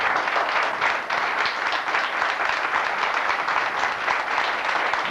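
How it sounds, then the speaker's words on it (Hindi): A crowd applauds at a 1999 police foundation award ceremony in New Delhi, with several seconds of sustained, even clapping from a large audience and no pauses. "ये लगता है कि हम यहाँ पर इतने लोग ताली मिल रहे हैं।"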